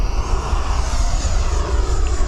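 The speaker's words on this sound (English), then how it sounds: "That 90mm FMS / Spectrum 1950 kV motor is incredible. So much power." An E-flite Viper 90mm electric ducted-fan model jet with a 1950 kV motor in flight, giving a steady, loud whooshing roar that holds evenly throughout with no voices over it.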